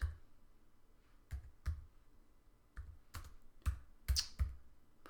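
A computer keyboard is used to type a dish name, chickpea and sweet potato curry, into a nutrition program, producing sparse, quiet, close key clicks in small irregular bursts with pauses between, and no talk.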